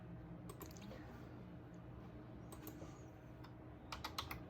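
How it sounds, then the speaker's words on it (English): Quiet keyboard typing, bursts of soft key clicks in short runs separated by pauses, heard close over a low room hum. "Now I can keep typing this in"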